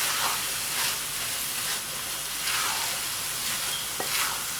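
Moong dal being stirred in a hot cooking pan, giving a loud, steady sizzling hiss with periodic swishing sweeps of the spoon, close and continuous with no talking.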